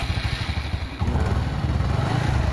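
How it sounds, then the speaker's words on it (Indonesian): A Honda Supra X 125 fi motorcycle with a weak, often-flat battery runs after a jump-start from a healthier battery: a close, steady, throbbing idle with rapid low pulses that grows slightly fuller midway. "ini ya teman-teman bisa motornya hidup"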